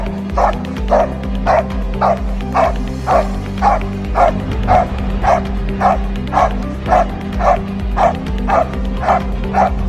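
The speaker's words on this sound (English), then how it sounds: "Powerful and loudest bark. Let's hear it first and we'll decide accordingly." A German Shepherd dog barks loudly and steadily in a regular, evenly spaced series of about twenty deep barks, close to the microphone, over a low background hum.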